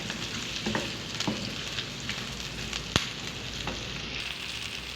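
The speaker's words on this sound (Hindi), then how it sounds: "इसके बाद डालेंगे प्याज और शिमला मिर्च भी डाल देंगे और 2 से 3 मिनट के लिए इनको सौते कर लेते हैं।" Onion and bell pepper sauté in a hot pan for a white sauce pasta, giving a steady, close sizzle with faint stirring clicks and a sharp utensil tap partway through, with no voices.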